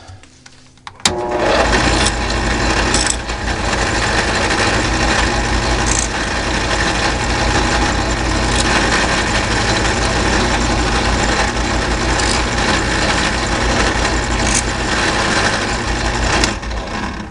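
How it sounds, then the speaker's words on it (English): A drill runs steadily with a droning motor hum and a rattling buzz, drilling holes through knife handle scales, starting after a brief pause and holding a constant level nearby. "Set up to drill the holes in the scales."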